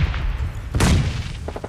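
A grenade goes off in a battle royale game, a loud close boom bursting in the middle of the clip, followed by a few lighter sharp cracks near the end.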